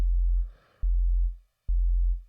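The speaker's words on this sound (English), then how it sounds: "which is just like a clean bass note." A clean synth bass note at F0, made in Ableton, plays as deep sustained sine-like tones. They are repeated three times with short gaps and soft clicks at each start, loud and isolated.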